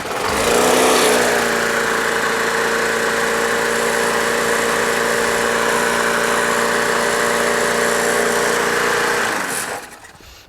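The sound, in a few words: Briggs & Stratton Quantum lawn mower engine running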